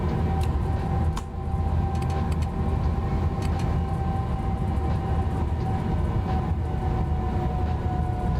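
A train rolls steadily along the track in the video game Train Sim World 4, with modded locomotive sounds. A loud, continuous low rumble holds throughout, with steady tonal hum and intermittent brief clanks and squeaks.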